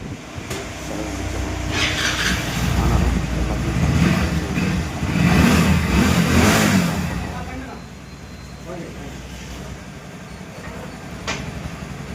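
A vehicle's engine starts and keeps running after a blown fuse was replaced, a steady mechanical rumble that swells briefly mid-clip, then settles into a quieter idle.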